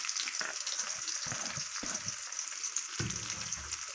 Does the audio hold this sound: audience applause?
no